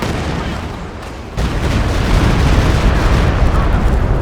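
Continuous roaring rumble of an artillery barrage in the Company of Heroes 2 video game, dense and loud, swelling abruptly after a brief dip into a sustained wall of blasts.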